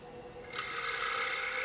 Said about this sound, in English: I'm trying to blend in those two curves